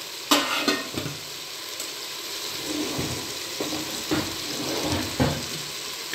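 Spices with turmeric and chili frying in a pan as they are stirred together, a steady sizzle underneath sharp intermittent scrapes and knocks of the spoon, close and moderate in level, no talking.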